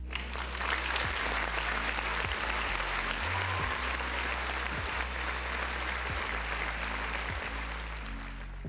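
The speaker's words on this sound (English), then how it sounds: "Round of applause for the folks in the chat." A crowd applauds continuously for several seconds, steady clapping with a few sharper claps standing out, fairly distant.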